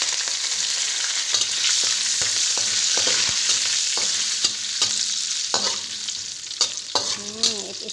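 Curry leaves fry in hot oil for chicken varuval, giving a loud, steady, crackling sizzle close up, with sharp pops and spits throughout and a few scrapes of stirring near the end.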